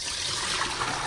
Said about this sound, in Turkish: Şimdi patatesleri süzgeçten geçiriyorum.